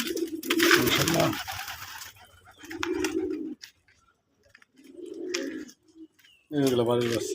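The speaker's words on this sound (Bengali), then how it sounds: "এখন বাড়ির বাচ্চা ডাক করতেছে।" Young home-bred desi pigeons at a farm coo in separate low, rolling bursts with quiet gaps between them, and a person's voice is heard briefly near the end.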